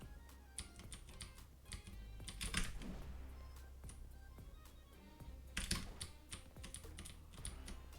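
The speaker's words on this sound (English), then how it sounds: "I guess it's also funky that I am playing on a keyboard." Rapid computer keyboard keystrokes clatter throughout while a game is played, with irregular bursts of denser tapping and a few louder clusters, close and fairly quiet over a low steady background hum.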